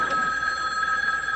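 A telephone bell rings in one steady, bright trill, loud and close in a quiet room.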